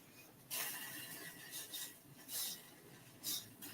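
A lemon is zested on a microplane grater in a home kitchen, with several close, quiet rasping strokes in an uneven rhythm.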